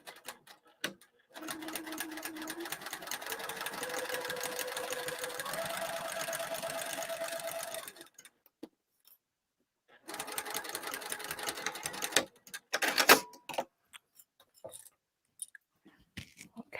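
A sewing machine runs a long top stitch at a 4 to 4.5 length, steady and close, with rising pitch steps, then stops and restarts for a shorter back-tack burst with a few clicks.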